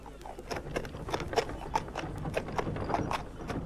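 Steady clip-clop of horse hooves at a walking pace, mid-distance, with faint background ambience.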